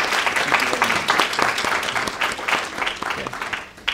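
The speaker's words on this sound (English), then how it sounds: "Maybe a second round of applause for Professor Spence." An audience applauds a lecturer in a steady, dense round of clapping that holds for several seconds and tapers slightly at the end.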